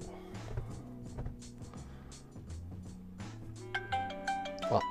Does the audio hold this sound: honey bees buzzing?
no